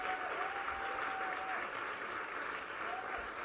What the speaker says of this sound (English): Another nice round of applause for the symphonic body performers.